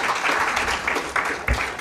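Crowd applause at a Kenyan political conference, a fairly steady rush of many hands clapping with a couple of louder thumps, moderately loud and continuous.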